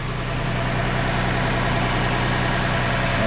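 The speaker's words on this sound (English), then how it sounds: "Okay, engine's on." A Ford Transit van engine idles steadily after an oil change and the fitting of a Frantz bypass oil filter, a continuous close low rumble with no talk.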